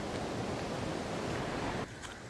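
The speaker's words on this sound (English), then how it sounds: "As the waves crash around me" Ocean surf crashes steadily onto an island shore in Tuvalu, a loud, continuous wash of waves close by that drops slightly in level near the end, with no talking.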